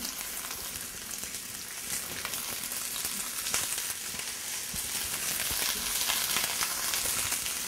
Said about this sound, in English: So I'm gonna start out by adding my cauliflower.